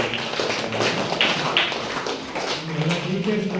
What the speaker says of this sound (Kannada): ನಿಮ್ಮ ಸಂಸ್ಥೆಯ ಚೇರ್ಮನ್ಗೆ ಒಂದು ಚಪ್ಪಾಳೆ ಹೊಡೆದ ಅಭಿನಂದನೆಗಳು